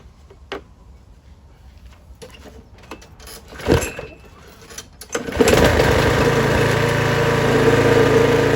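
A few clunks and a sharp pull, then a lawn mower engine catches and settles into a steady, loud idle that runs to the end.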